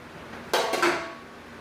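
A big cooking pot is set down on a gas stove with a single sharp metallic clank and a brief ringing rattle, close by in a quiet kitchen.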